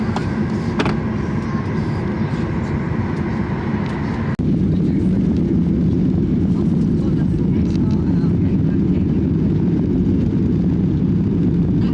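The cabin of an airliner on a flight to Sweden carries a steady, close engine drone; the tone shifts abruptly partway through, then the low roar continues evenly with faint voices underneath.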